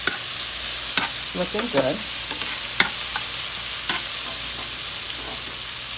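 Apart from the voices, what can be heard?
Haitian stewed tilapia base cooking in pot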